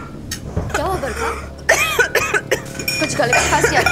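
Someone coughs several times in quick, harsh bursts, mixed with voices and a light clink of glass nearby.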